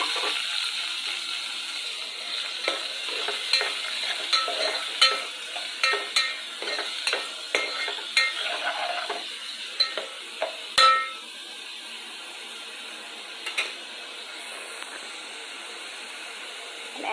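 Onion pieces and green chillies with some raw dal fry in hot oil, giving a steady hiss broken by quick crackles and pops, near and busy at first, then settling into a softer sizzle.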